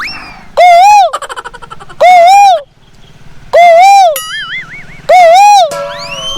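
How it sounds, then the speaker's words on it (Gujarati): An Asian koel calls on a jungle safari, four loud, close, rising hooting notes repeated at even intervals, with fainter warbling tones and squeaks between them. "પણ કોયલ કેવું મીઠું બોલે"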